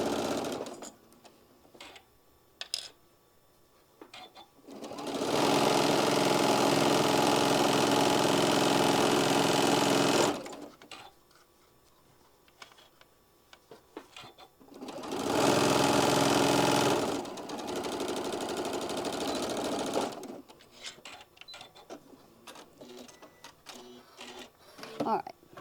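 Sewing machine stitching a drawstring bag in two sustained runs of steady whirring, loud and close, with quieter talk and handling noises between them.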